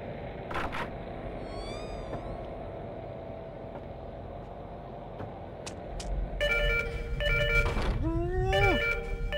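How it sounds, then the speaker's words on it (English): Telephone rings in the horror video game Fatal Frame 4, a bright repeated electronic tone emerging over a dense ambient drone and eerie in-game noises, moderately loud near the end. "It's rude to answer the phone!"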